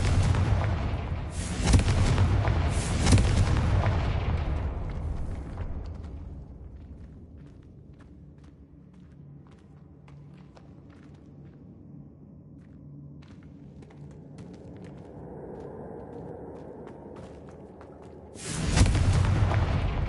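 Confringo blasting-curse explosions boom in Hogwarts Legacy, a heavy rumbling burst at the start that fades into a long low decay and quiet ambience, then a fresh loud blast near the end.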